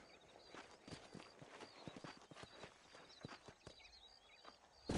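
Horse hooves clip-clop in the Western video game Red Dead Redemption, a quiet irregular run of soft hoof strikes from several horses, with a brief louder knock right at the end.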